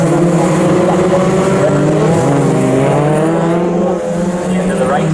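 Mini Cooper and Cooper S race cars at Snetterton circuit drone past in a close pack, engines held high and shifting pitch, with a race commentator talking over them.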